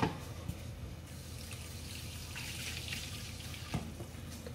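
Water poured into a cooking pot while making Pontianak mooncakes with mung bean filling, a steady close splashing rush that runs throughout, with a couple of faint knocks and no talking.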